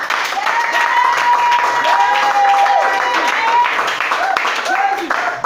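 A church congregation at a worship service applauds and acclaims the Lord Jesus, steady clapping and cheering running under a loud voice calling out over the crowd.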